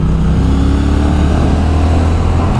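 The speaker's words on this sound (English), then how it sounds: "Listen to that engine note." A Triumph Speed Twin 1200 motorcycle engine runs loud and close, a steady deep rumble with a strong low note held throughout.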